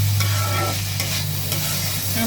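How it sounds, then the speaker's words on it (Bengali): Onion flower stalks and potatoes fry in a pan, giving a steady close sizzle with stirring scrapes and a few sharper clinks, and no one speaks. "ভালো করে ভেজে নেব।"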